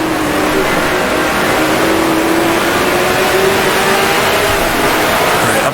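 A 1966 Formula One race car engine in Grand Prix Legends drones at high, steady revs in second gear, its pitch holding and slowly climbing as it pulls, loud and continuous with no talk.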